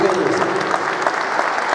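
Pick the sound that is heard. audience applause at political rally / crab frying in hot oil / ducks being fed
audience applause at political rally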